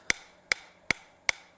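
A hammer strikes hot steel while forging a maple leaf bowl, ringing out four sharp, evenly spaced metallic blows about four-tenths of a second apart, each followed by a quick decay.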